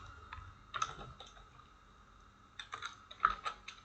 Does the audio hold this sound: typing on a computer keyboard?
yes